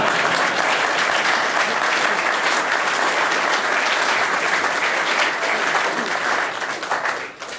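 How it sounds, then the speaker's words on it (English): Sustained, loud audience applause fills a hall during a Conservative Party lecture, steady dense clapping that tapers off slightly near the end. "I think you should clap"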